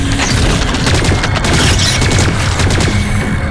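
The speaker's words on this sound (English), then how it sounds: "I think three like perfect bursts and four bursts" Loud, dense bursts of weapon fire in the video game Lost Planet 3, rapid overlapping shots with booming impacts that run without a break through the whole stretch, close and harsh.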